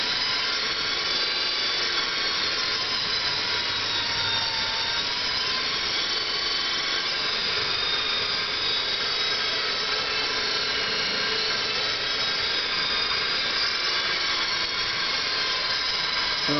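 Electric drivetrain motor on a test run at about 7 volts and 56 amps, giving a steady, loud whirring whine with tonal bands that holds unbroken throughout, with no talking.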